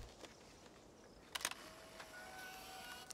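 A camera shutter in the video game Life is Strange fires once midway, a short crisp click burst, fairly quiet over a soft ambient background with faint tonal hums and no speech.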